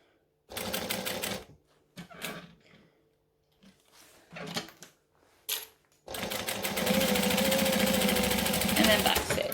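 Sewing machine stitching a backpack strap in short stop-start bursts with pivots between, then a longer sustained run of stitching.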